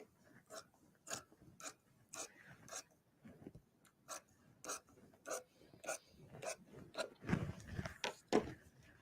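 Scissors cut through tweed fabric in a run of close, crisp snips, each a short rasping chop spaced about half a second apart, louder and busier toward the end.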